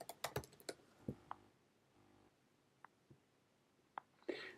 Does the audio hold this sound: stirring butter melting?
no